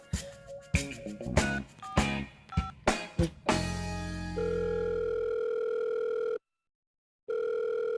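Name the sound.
phone call ringback tone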